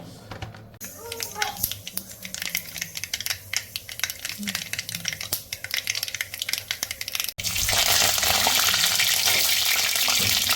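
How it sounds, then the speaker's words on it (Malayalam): Mustard seeds crackling and spattering in hot coconut oil in a pan, a dense run of sharp pops close by, giving way to a louder steady sizzle near the end. "കടുക് വറുക്കാനുള്ള വെളിച്ചെണ്ണ ഒഴിച്ചു കൊടുക്കാം"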